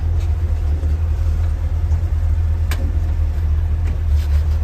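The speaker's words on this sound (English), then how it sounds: "I just want to show you that the little truck runs and shifts and steers like it should" A 1969 Jeep Jeepster creeps along in first gear, low range, its engine giving a steady, close, low drone throughout with a single faint knock partway through.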